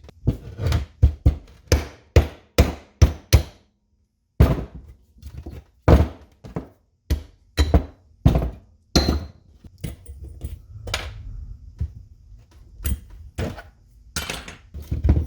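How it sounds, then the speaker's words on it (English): Seized brake pads being knocked out of a Kona bike's rear brake caliper produce a quick series of sharp metallic taps and thunks, irregular and close, then softer scraping knocks. "Pop these brake pads out. This one here is seized."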